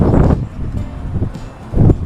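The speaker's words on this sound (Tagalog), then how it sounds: "Ngayon po ay malakas din po ang hangin." Strong wind blowing outdoors before sunrise on a dark early morning, heard as a rough continuous rush with gusty swells at the start and again near the end.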